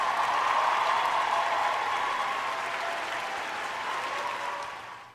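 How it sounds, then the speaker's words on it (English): Audience clapping for a guest at a talk, a full, even wash of applause that holds steady before tapering off at the end. "Round of applause to the Texan."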